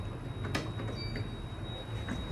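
An LG/Sigma traction elevator door in need of repair slides with a low mechanical rumble, punctuated by a sharp knock and a few thuds, over a faint steady whine from the car's machinery.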